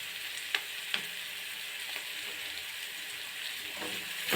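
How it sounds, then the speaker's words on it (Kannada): Egg curry masala sizzling in a pan as it is stirred, a steady close frying hiss with a couple of sharp spoon clinks against the pan, no talk. "ಸ್ವಲ್ಪ ಮಿಕ್ಸ್ ಮಾಡಿ ಹಾಗೆ ಮಿಕ್ಸ್ ಮಾಡಿ ಸ್ವಲ್ಪ ಫ್ಲೇಮ್ ಕಡಿಮೆ ಮಾಡಬೇಕು."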